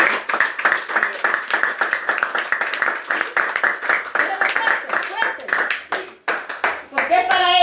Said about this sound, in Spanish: usted le puede dar un aplauso a él por eso